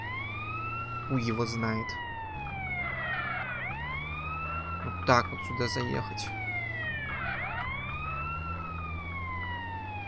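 Police sirens wail continuously in GTA San Andreas, their rising and falling sweeps overlapping close and loud through the whole stretch while someone talks over them.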